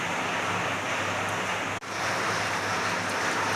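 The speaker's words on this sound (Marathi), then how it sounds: "आपण थोडंसं गरम केलेलं पाणी ओतू शकतो" Heated water is poured into boiling chicken rassa in a pot, giving a continuous splashing rush with a brief dropout midway.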